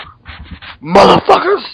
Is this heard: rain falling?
no